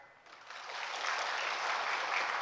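An audience at a lecture breaks into hand clapping, starting after a brief pause and swelling into steady, dense applause that continues to the end, with no talking.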